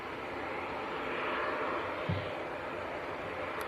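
An Aer Lingus ATR 72 turboprop bound for Dublin at Leeds Bradford Airport gives a steady, moderately distant engine drone with a faint swell partway through.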